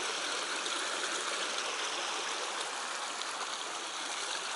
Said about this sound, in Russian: Река Бзерп.